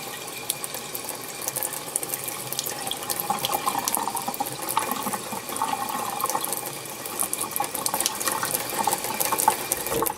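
Cold water runs from a kitchen tap into a bowl while homemade butter is washed, a steady close splashing stream with slight surges and no voices.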